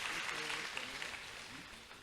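An audience in a Brahma Kumaris hall at Anand Sarovar claps at the hall's inauguration, a steady, moderately faint wash of applause with a voice heard faintly over it.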